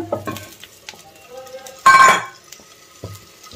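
Eggs go into a pan for egg biryani with a sharp clattering, sizzling burst amid quieter kitchen clinks and scrapes before and after.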